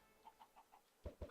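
Chickens in the video game Minecraft: a few soft, short clucks in an even rhythm, then two louder, sharper clucks at the end, faint and alone.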